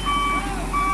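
A Hino Ranger truck backing into a parking spot sounds its reversing alarm, a steady electronic beep pattern over low engine rumble, heard clearly up close.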